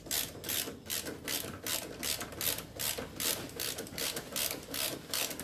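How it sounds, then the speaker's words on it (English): A hand ratchet clicks in quick, even strokes while a bolt is driven into an extended brake lever on a vehicle's brake pedal, each pass a close, crisp burst of pawl clicks repeating steadily with no talk. "We put this bolt in."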